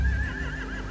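Horses neigh and whinny in The Walking Dead video game, Season 4 The Final Season, a loud close whinny with a wavering high tone lasting the whole second, no talk over it.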